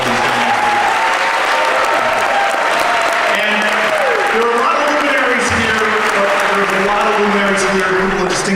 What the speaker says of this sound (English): please give a round of applause for Amal and for all of these things